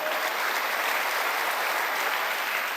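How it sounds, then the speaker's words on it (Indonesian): A church congregation applauds during a worship service, a steady dense wash of clapping that fills the space evenly from start to finish with no speech over it. "Tepuk tangannya Maria."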